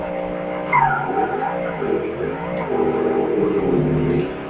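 Drag race car making a nitrous pass in the IHRA Drag Racing 2 video game, a loud continuous engine roar with rising and falling pitch sweeps and tire noise, close and without talk.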